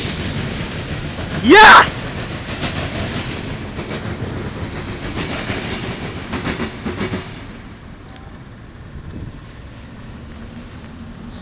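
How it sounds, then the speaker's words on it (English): Northbound CSX and Norfolk Southern freight trains run side by side in Marion, Ohio, their rolling wheels and clatter loud and close under wind noise, then easing off. A voice briefly shouts in excitement. "Two trains racing each other"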